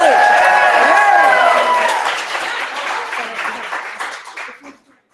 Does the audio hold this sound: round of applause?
yes